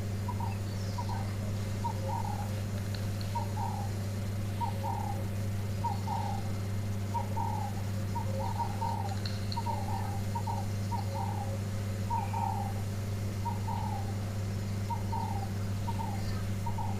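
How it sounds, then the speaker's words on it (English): Birds call in short repeated notes at a regular, evenly spaced pace, moderately distant at a waterhole, over a constant low mechanical hum. "Today it's just bird sounds."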